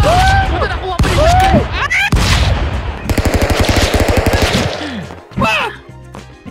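Shotgun blasts in Stick Fight: The Game, loud repeated bursts of gunfire amid chaotic game effects, with excited shouting voices over much of the clip.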